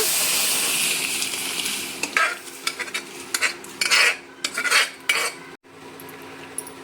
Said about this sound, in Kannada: ಇವಾಗ ನೋಡಿ, ಬೇಳೆನ ಹಾಕಿ ರುಚಿಗೆ ತಕ್ಕಷ್ಟು ಉಪ್ಪನ್ನು ಹಾಕಿ ಇದನ್ನ ಒಂದು 2ರಿಂದ 3 ನಿಮಿಷ ಕುದಿಲಿಕ್ಕೆ ಬಿಡೋಣ.